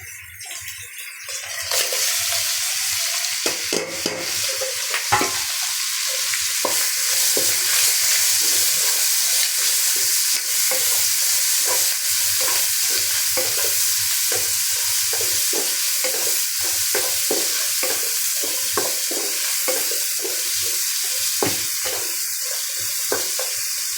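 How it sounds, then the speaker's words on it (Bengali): Garlic and onions fry in a pan, making a steady, bright sizzle with repeated stirring scrapes that carries on for over twenty seconds, close and continuous with no talking. "এখন রসুন পেঁয়াজগুলো দিয়ে দিই।"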